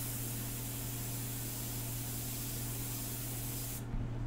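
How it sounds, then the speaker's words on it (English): Airbrush spraying India ink for a portrait painting, a steady close hiss of air and ink that runs unbroken for about four seconds before cutting off near the end. "periodically check and make sure that when you're spraying that ink is not coming out"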